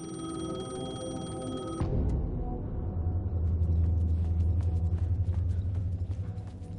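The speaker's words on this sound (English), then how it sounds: "The payphone was ringing." A payphone in the video game Alan Wake II rings loudly with a bright electronic trill, then cuts off abruptly, leaving a low mechanical rumble with scattered clicks.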